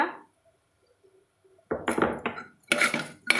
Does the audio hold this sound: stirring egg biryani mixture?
yes